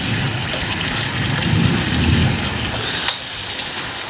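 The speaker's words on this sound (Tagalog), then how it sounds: "So biglang umulan. So medyo may kalakasan pero sakto lang. May pakulog-kulog pa." A sudden, heavy downpour hisses steadily outdoors during home cooking, swelling in the middle, with low thunder rumbling beneath and a sharp crack near the end.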